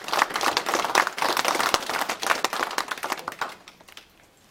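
An audience at an inauguration ceremony claps steadily as a crisp, dense patter of many hands, then thins out and fades to near silence at the end.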